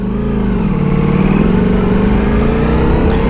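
A Ducati Multistrada's engine revving steadily in race mode with the low engine power setting, a loud, continuous mid-pitched motorcycle drone with slight rises in pitch and no pauses.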